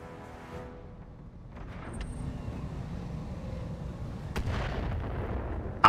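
Heavy artillery fire in the mech combat game Battletech, a dense low rumble of distant barrages building up, with a sharp blast cracking through near the end.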